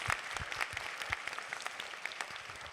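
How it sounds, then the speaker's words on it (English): Crowd at a Lucifer cast Q&A panel at Comic-Con Wales 2022 claps enthusiastically, a dense rattle of applause with a few sharper, louder hand claps standing out near the front. "So give yourselves a round of applause."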